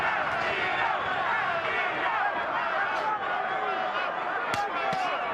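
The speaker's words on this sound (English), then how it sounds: "Crowd is chanting, Castillo, Castillo." Boxing crowd at the MGM Grand chants a fighter's name during a late-round championship bout, a dense roar of many voices in rhythmic surges, with a commentator speaking over it.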